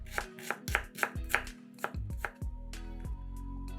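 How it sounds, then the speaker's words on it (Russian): Onion being diced into cubes on a cutting board, a rapid series of sharp knife chops with short pauses between runs, close and crisp, with no talking. "1 луковицу нарезаем кубиками."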